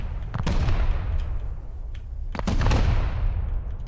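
Explosions and blasts in the survival video game Rust, a dense rumbling roar with several sharp bursts near the start and middle, loud and sustained.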